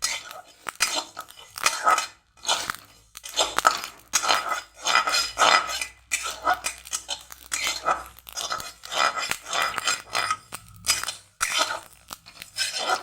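Fenugreek, nigella and fennel seeds are dry-fried over low heat in a wok for a radish pickle, giving rhythmic scraping, rattling and clinking as they are stirred, close and fairly loud.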